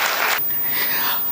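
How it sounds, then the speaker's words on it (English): Audience applause at a women investors' finance event, a dense wash of many hands clapping that swells briefly, then fades and thins over about a second. "let's have a big round of applause for Vanita"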